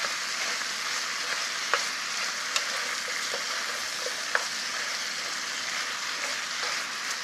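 Yukgaejang ingredients stir-fry in plenty of oil, producing a steady, dense sizzle close up, with a few faint taps from utensils and no talking.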